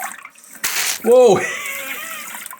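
A newly installed bidet on a toilet shoots a short, hissing burst of water from its nozzle, then a startled exclamation follows over a fainter continuing trickle.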